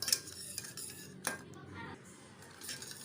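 A spoon stirs orange pudding mix with cornflour in a pan before heating, giving close scraping and clinking of metal against the vessel in uneven strokes over a quiet background.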